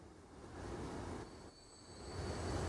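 Trains running on rails in the video game Transport Fever 2, a low rolling rumble with a high, thin wheel squeal that joins midway, growing louder toward the end with no talking.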